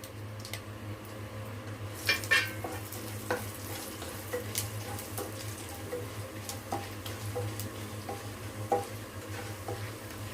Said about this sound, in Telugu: పోపులన్నీ కలిపి వేయించుకుంటాం